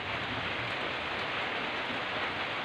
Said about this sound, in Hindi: अभी 4 बज गए फिर भी बारिश रुका ही नहीं